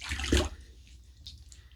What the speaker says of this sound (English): All right, let's rinse off.